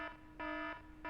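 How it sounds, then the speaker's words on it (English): A screeching emergency alarm shrills in three separate electronic bursts of steady, piercing tone, heard at moderate distance with short gaps between them. "a screeching alarm shrilled through the air"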